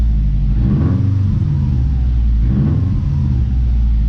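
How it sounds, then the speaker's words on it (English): Subaru WRX 2.5-liter engine idling steadily, with two quick throttle blips that briefly raise the revs, about a second and a half apart, loud and close. "So when we blip the throttle, we should see it spike way up."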